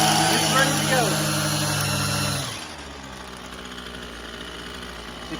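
A gas-powered weed eater engine runs at half choke with a loud, steady buzzing drone, then drops abruptly to a much quieter low idle-like rumble for the rest.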